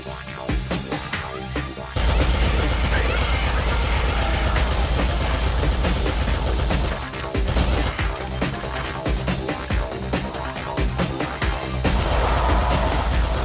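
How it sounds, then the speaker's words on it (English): Machine gun in the video game Alien Shooter firing as a loud, rapid, continuous rattle of shots that starts abruptly after a short pause and carries on for over ten seconds, with no speech over it. "I love this machine gun."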